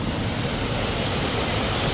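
Meenmutty waterfall in Kerala pours in a steady, dense rushing roar, loud and close, with no pauses and no voices.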